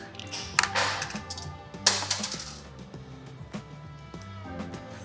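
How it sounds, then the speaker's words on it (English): Small metal clicks and taps ring out while a 5mm Allen key works loose the plastic ignition switch cover on an RX4 Adventure, close and light, with short scattered bursts and faint tinkling like a dropped washer. "I'm going to remove that plastic cover using a 5mm Allen."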